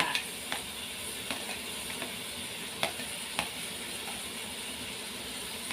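Pork belly stir-fries with fresh ginger and wood ear mushrooms in a hot pan, making a steady close sizzle broken by scattered scrapes and clinks of the stirring utensil.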